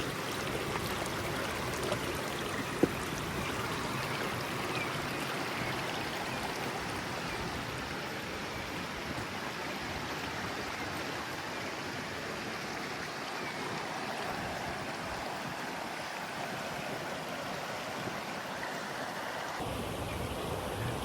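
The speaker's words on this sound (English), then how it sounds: "mechanism that allows the excess water to flow out from the lake over into the river, and this is where it discharges." Excess lake water discharges through an outflow into a river in a steady, continuous rushing wash like a stream, moderately loud and unbroken throughout with no voices.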